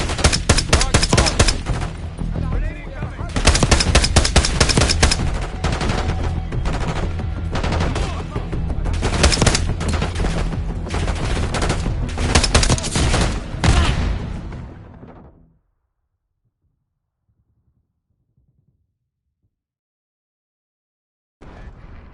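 In Call of Duty: Black Ops 6, loud, dense gunfire runs as sustained automatic bursts with short gaps for about fifteen seconds, then cuts off into near silence before a faint sound returns at the end.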